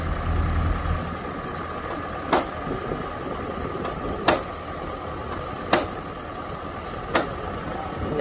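An original Kubota DC60 rice combine harvester runs with a steady, low mechanical engine drone, close by, punctuated by four sharp metallic clacks spaced a second or two apart.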